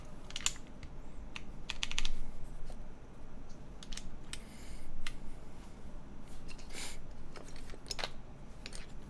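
Keystrokes clack on a Keycult No. 3 TKL mechanical keyboard, scattered irregular taps and short bursts of typing heard close up over a faint background hum, with no talking.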